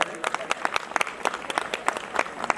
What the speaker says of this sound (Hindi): उनके बच्चों के लिए ज़ोरदार ताली हो जाए